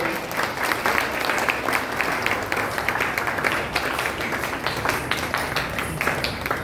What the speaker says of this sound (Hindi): आराध्या के लिए जोरदार तालियां एक बार फिर से।